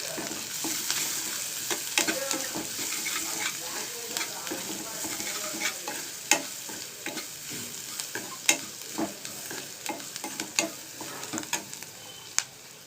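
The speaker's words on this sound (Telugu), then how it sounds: "ఉల్లిగడ్డ పచ్చిమిరపకాయ కరివేపాకు అంతా వేగిపోయింది" Onion, green chilli and curry leaves fry in a pan with a soft, steady sizzle, while a spoon stirs and scrapes at irregular intervals, close by and without talk.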